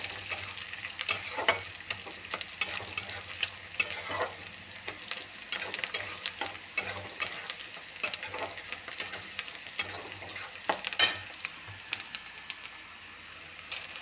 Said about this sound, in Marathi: कांदा भाजत आल्यानंतर ही उर्दाचे डाळ आपल्याला टाकायची याच्यामध्ये छान परत हे छान भाजून घ्यायचे